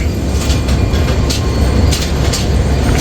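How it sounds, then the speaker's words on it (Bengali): The Simanta Express pulls away from platform four at Khulna in a loud, continuous low rumble of rolling wagons, with faint clanks and squeals over the steady roar. "সীমান্ত এক্সপ্রেস চার নম্বর প্ল্যাটফর্ম থেকে ছেড়ে যাচ্ছে তার পরবর্তী যাত্রাবিরতি স্টেশনের উদ্দেশ্যে"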